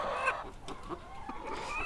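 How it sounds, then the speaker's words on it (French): Hens clucking in a farm henhouse built for about 275 birds, a few softly overlapping clucks and calls close by, continuous and moderately quiet with no talking. "il y a quelques poules là qui sont revenues manger un peu d'aliments"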